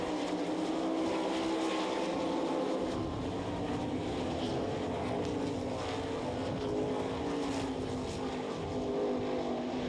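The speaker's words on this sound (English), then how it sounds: "Steve Ware's down the back straightaway, closes in, looks to the bottom side" 360 sprint cars race at the Knoxville Nationals dirt track, their engines a loud, continuous high-revving roar that rises and falls as the pack passes, heard from the stands with no commentary audible.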